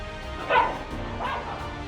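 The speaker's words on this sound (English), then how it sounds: "The pit bull seemed friendly at first, but when her little dog Max came outside, all hell broke loose" A pit bull and a small dog scuffle, with faint yips and whimpering barks rising in two short bursts under a low background murmur.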